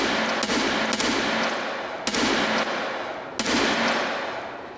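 Sustained gunfire in Escape From Tarkov on the Reserve map, a loud continuous roar of shots with sharp onsets at regular intervals, close and dense throughout, no talk.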